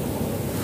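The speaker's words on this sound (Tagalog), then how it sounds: "Kasi tingnan niyo naman yung hampas ng yung dagat" Sea waves wash against the shore at Nasugbu, Batangas, a continuous rushing surf roar blended with wind buffeting the microphone, close and steady without voices.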